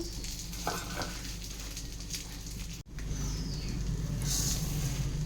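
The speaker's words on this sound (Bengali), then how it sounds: "এদিকে মুগ ডাল ভেজে নেব খিচুড়ির জন্য" Mung dal dry-frying in a pan for khichuri gives a steady close sizzle with scraping stirs and a brief clatter midway, no talking.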